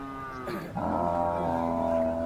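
A pregnant Khillar cow gives a low, drawn-out moo close by at a cattle market in Sangola, rising after a brief pause and holding steady to the end.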